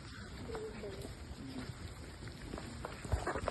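Rain falls outdoors in a steady soft patter with scattered drops striking nearby surfaces, fairly faint, while people talk over it.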